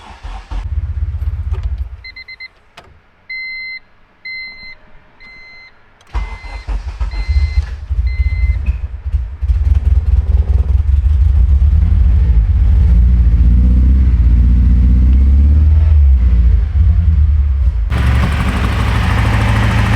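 A K-swapped Honda Civic fires up after warning chimes and a key turn, then idles loud and close with a lumpy, uneven rough running on only two cylinders, steady rumble continuing to the end.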